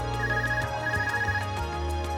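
Electronic ringtone from a phone in The Legend of Heroes: Trails of Cold Steel, pulsing tones repeating over low game music, clear and without voices.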